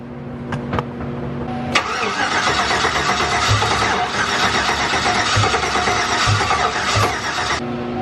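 Turbocharged Chevrolet Silverado with a hard-starting fault cranks for about a second and catches, then runs loudly and steadily close by, broadband engine roar with faint knocks until it cuts off near the end.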